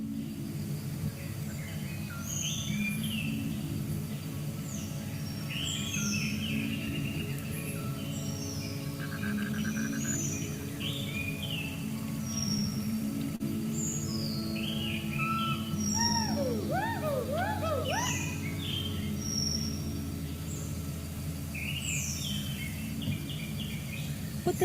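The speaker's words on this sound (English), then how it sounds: "Then, the first rays of light filter through, and it erupts into a resounding dawn chorus." A forest dawn chorus fills the air as many birds call and sing together at once, with overlapping chirps and trilling phrases over a steady low natural hum, dense and continuous throughout.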